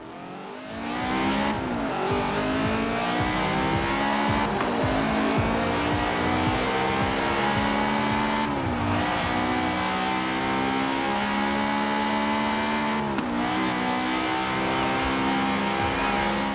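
A Forza Horizon 4 video game car engine revs high and drops repeatedly through gear shifts, loud and continuous with a whining tone and occasional tire squeal.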